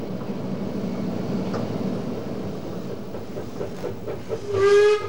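Train running through the Gotthard rail tunnel in the Swiss Alps, a steady low rumble of wheels and carriages that builds slightly, then a short whistle near the end.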